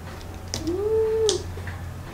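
A single cat meows once, a clear rising-then-falling call of about three quarters of a second, close and moderately loud over a low steady background hum in a home kitchen.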